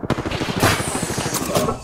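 Enemy gunshots crack in quick succession during an online shooter match, a close, dense patter of rapid fire with a few sharper louder reports, under faint voices.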